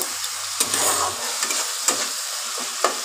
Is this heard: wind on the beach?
no